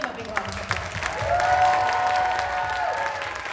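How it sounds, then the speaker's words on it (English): An audience at a Bollywood dance show applauds with a swelling wash of clapping and some crowd noise, while a voice calls out over it and a sustained tone hums in the background. "Give them a big round of applause."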